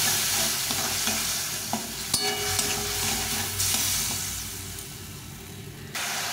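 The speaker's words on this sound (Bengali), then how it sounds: "দিয়ে মশলাটা ভালো করে কষিয়ে নেব" Masala with tomato and a splash of water fries in a pan, giving a continuous close sizzle with scraping stirs of a spatula and a few knocks against the pan.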